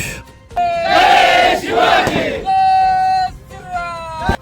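A crowd of Shivaji devotees roars and chants together in loud celebratory bursts at a town square, with shouting voices rising and falling, fireworks, and a sharp crack near the end.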